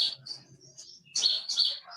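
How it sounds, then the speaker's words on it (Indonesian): Several birds chirp and tweet in bright, melodious bursts on a quiet hillside, with a short pause mid-way before louder, closer calls return. "Ada kicauan burung yang merdu bersama angin sepoi-sepoi"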